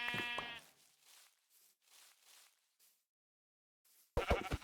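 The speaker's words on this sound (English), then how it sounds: "I found sheep, had to look it in the eyes for a little before, yeah, ending its life." A Minecraft sheep gives a short bleat at the start, followed by quiet game sounds and near silence, then a louder burst of in-game noise at the end.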